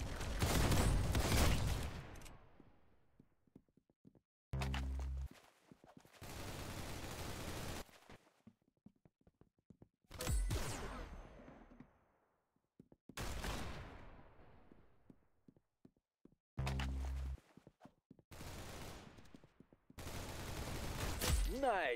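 Gunfire in Roblox Arsenal, a shooting game: repeated loud bursts of rapid shots come in distinct volleys separated by short near-silent gaps, sometimes with a booming low thud, and a voice speaks now and then.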